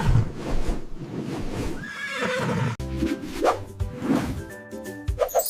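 A horse neighs loudly and close, with a whinnying call followed by a second, shorter neigh and faint snorts, heard alone without speech.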